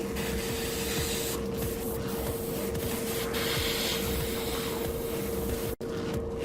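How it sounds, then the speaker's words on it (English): A Harder & Steenbeck Geminus airbrush fitted with a 0.15 mm tip sprays a steady, close airy hiss over a constant humming tone. The hiss cuts out briefly near the end and then resumes. "and immediately you can see the difference in how fine a line the airbrush sprays"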